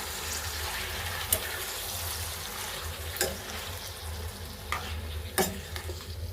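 A spoon stirs a tomato chutney mixture in a pan over low sizzling, with three or four distinct scraping strokes spaced a couple of seconds apart.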